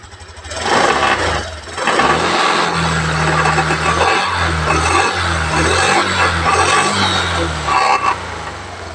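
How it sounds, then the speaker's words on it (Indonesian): A Honda Beat ESP scooter engine runs close to the microphone, a loud, steady motor drone whose pitch wavers slightly as it idles and revs, with no talk over it. "Yang penting ini motor jalan dulu"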